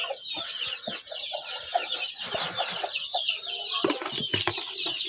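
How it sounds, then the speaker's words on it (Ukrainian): A flock of chickens clucking and chattering continuously nearby, with scattered knocks and rustling. "Вон курчата."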